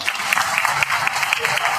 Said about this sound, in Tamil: இந்த 7 பேருக்கும் முதல்ல ஒரு மிகப்பெரிய கைத்தட்டல கொடுத்துடலாம்